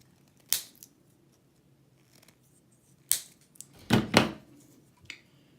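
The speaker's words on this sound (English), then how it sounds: "So we're going to take a single piece of shrink tubing. We got 3 wires, so we'll cut this into thirds." Scissors snip through heat-shrink tubing to split one piece into three, giving a few sharp, crisp cuts spaced apart with quiet pauses between them.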